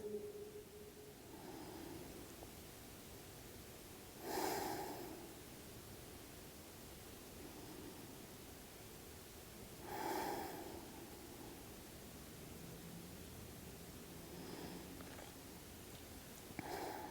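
Slow yoga breathing during a pigeon pose practice: faint quiet room hiss with three soft, distinct breaths spaced several seconds apart, close to the microphone and without talk.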